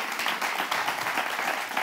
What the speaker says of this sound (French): Applaudissez la boss là.